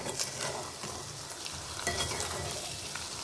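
A spoon stirs egg curry through frying onions in a pan, with a soft continuous sizzle broken by light scraping and clinks against the pan.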